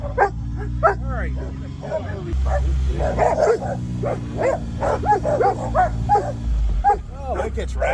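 Several playful dogs bark and yip in quick, overlapping bursts close by, over a low rumble, while someone talks throughout.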